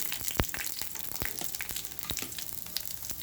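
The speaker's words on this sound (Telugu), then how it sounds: "ఆయిల్ వేడయ్యాక పచ్చిమిర్చిని కట్ చేసి వేసుకోవాలండి" Cut green chillies fry in hot oil for a tomato mint chutney, giving a steady close sizzle with occasional sharp pops and crackles.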